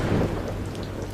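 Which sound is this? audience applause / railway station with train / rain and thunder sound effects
rain and thunder sound effects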